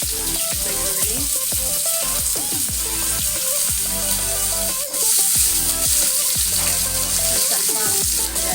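Garlic fries in a pan for tomato curry, giving a loud, dense, continuous sizzle and crackle close by, with light stirring clatter and no one speaking.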